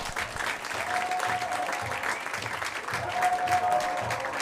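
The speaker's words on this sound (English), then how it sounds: "Keep those hands clapping for Will, everyone." A comedy club audience claps for a comedian, a moderate, steady patter of many hands heard close, swelling slightly toward the end.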